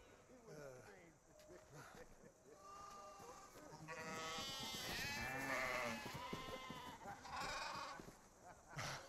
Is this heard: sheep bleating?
yes